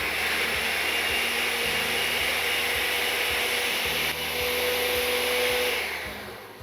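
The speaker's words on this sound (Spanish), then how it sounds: "esto lo vamos a moler en la licuadora" A blender whirs loudly and steadily, its motor grinding shrimp heads and broth with rhythmic churning, then winding down at the end.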